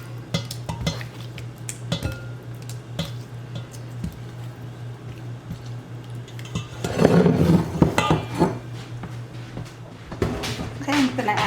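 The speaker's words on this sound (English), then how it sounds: "I'm going to put it back in this bowl because the bowl I originally had is a lot bigger to stir it" Fried chicken pieces for Puerto Rican chicharrón de pollo are moved back into a large bowl, with clinking of dishes and utensils, soft wet squishing, and a steady low hum running beneath.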